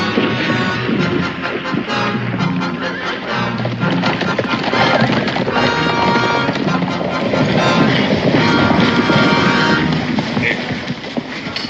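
Horses in a 1960s Western drama gallop with loud, dense hoofbeats and whinnies, mixed with a rushing outdoor wash and occasional voices.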